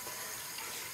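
Water running steadily from a tap into a shallow tray being slowly filled for water marbling, a continuous soft splashing flow throughout, close and alone.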